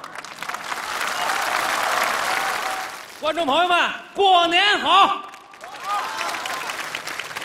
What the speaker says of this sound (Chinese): 感谢大伙把这么热烈的掌声给了我一个人